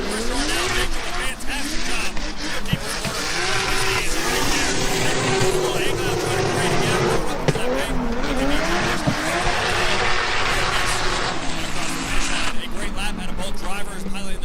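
BMW 1 Series drift cars battle at a drift competition, engines roaring loudly and continuously with screeching tires and shifting revs, under excited announcer commentary.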